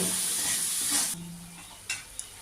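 Spices sizzle and get stirred in a pan while cooking a prawn and banana flower ghonto sweetened with jaggery. A loud hissing burst lasts about a second, then a quieter sizzle follows with a couple of sharp utensil taps.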